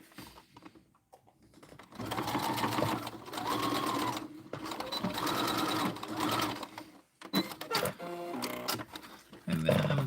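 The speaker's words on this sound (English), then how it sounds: "So I'm going to go ahead and sew this fully down now." Sewing machine running in long steady bursts while stitching down a fabric fortune cookie coin purse, pausing briefly between runs and ending with shorter stop-start stitching.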